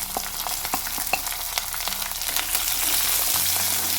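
Chopped large onions sizzle steadily in hot oil for kovakkai rice, a dense, close frying hiss broken by a few sharp clicks and taps of a spoon against the pan.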